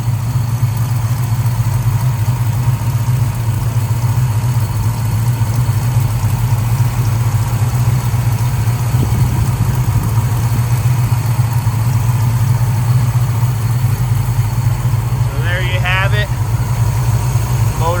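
A 1970 Plymouth Barracuda's 518 stroker V8 with six-pack fuel injection idles steadily and continuously with a deep, low rumble, while faint voices talk in the background.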